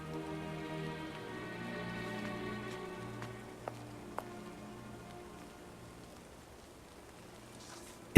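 Rain falls in the Sherlock Holmes: Nemesis detective game, a soft, steady patter on the ground under a low tonal drone, with a couple of faint sharp ticks and a sudden thump at the end.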